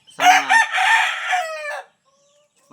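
A single loud fighting rooster crow rings out close by, a drawn-out cock-a-doodle-doo lasting well over a second before fading into quiet.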